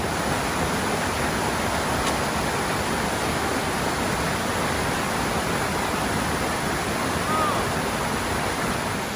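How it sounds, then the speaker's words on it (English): Red Waterfall, a 60 metre waterfall in Wayati Gorge, roars as a loud, steady, unbroken rush of falling water close by, filling the whole clip. "What an incredible waterfall."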